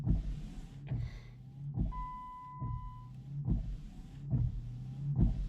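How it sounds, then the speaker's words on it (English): Windshield wipers on a Jeep Commander sweep by themselves, a regular motor whir and thump repeating about every 0.8 seconds, close and alone inside the cabin. "Wipers are going."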